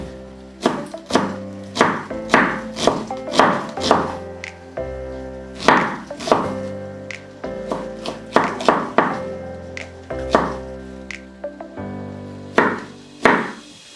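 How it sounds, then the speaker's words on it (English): An onion being chopped with a knife on a board, a series of loud, close, irregular thunks with short pauses between bursts of cuts, and no talking. "we're gonna chop the onion"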